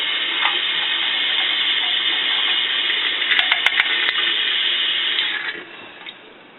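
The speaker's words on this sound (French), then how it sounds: "Ça aussi, on va la rincer à l'eau" Tap water running steadily from a faucet to rinse a plastic part of a Rapidograph technical pen, a loud close hiss with a few faint clicks midway, then tapering off as the flow is cut.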